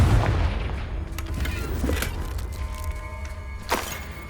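Confringo fire spell in the Hogwarts Legacy video game, a heavy booming blast with rumbling low end and a few sharp cracks and thumps trailing after, loud and close with no speech.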